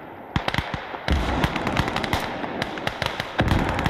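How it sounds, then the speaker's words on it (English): Field gun fire from the World War II strategy game Call to Arms: Gates of Hell on the Eastern Front, with sharp booming shots repeating in quick irregular succession over a steady battle roar. "Field gun still firing, I think."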